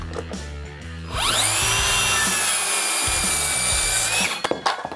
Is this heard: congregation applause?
no